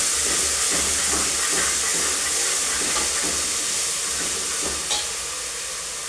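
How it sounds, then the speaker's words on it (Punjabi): Coarse onion paste fries in hot oil with cumin, giving a steady, loud broadband sizzle with a few soft stirring scrapes and no voices. "ਤੇ ਲਓ ਜੀ ਪਿਆਜ਼ ਆ ਜਿਹੜੇ ਆਪਾਂ ਚੰਗੀ ਤਰ੍ਹਾਂ ਭੁੰਨ ਲੈਣੇ ਨੇ"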